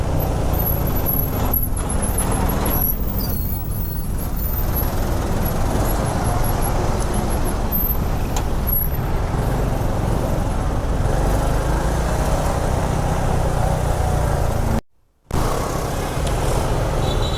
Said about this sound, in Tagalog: Traffic dito talaga.